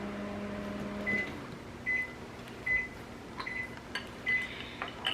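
Microwave oven beeping, five short high-pitched beeps spaced about a second apart, clear against a quiet kitchen hum after a low appliance drone stops.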